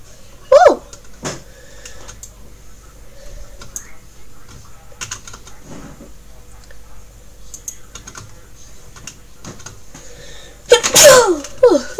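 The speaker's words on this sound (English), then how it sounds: "a little bit of the sneeze there" Two loud sneezes, one early and one near the end, over soft clicking of keyboard typing.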